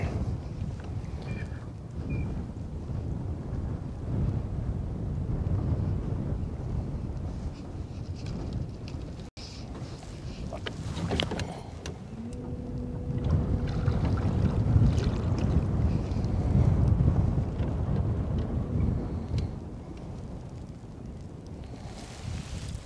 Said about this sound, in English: I got the wind blowing